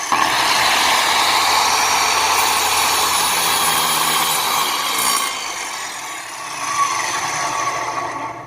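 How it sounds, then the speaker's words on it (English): A power saw cuts through Pergo laminate flooring held against a backer block, a loud sustained whining cut that runs steadily for several seconds, then winds down as the blade coasts toward a stop, with no talking. "Let the saw come to a complete stop."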